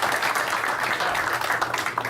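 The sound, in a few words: applause for guests and visitors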